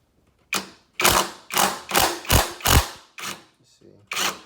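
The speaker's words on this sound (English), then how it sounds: "It's a 14 millimeter long socket wrench." A 14 mm long socket wrench loosens a bolt on a car's rear suspension, giving a series of about eight sharp ratcheting bursts in an uneven rhythm, close and clear with no talking.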